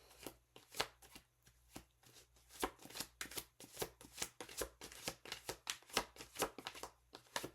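Playing cards shuffled by hand, a steady run of crisp riffling bursts repeating close and quiet, with no talking over them.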